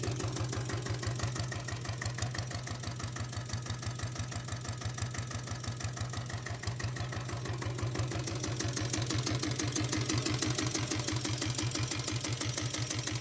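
A Royal Enfield diesel Bullet motorcycle idles steadily up close, its single-cylinder engine thumping in a fast, even, unbroken rhythm with a slight knocking character throughout.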